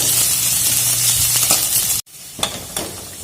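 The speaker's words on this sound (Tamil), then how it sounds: "நல்லெண்ணெய் ஆட் பண்ணிவிட்டு இஞ்சி நல்லா பொரியணும், நல்லா வதக்கி எடுத்துக்கலாம்." Ginger sizzles loudly as it fries in sesame oil, with a steady hiss and a few stirring scrapes. A brief break in the sound is followed by softer frying with light utensil clicks.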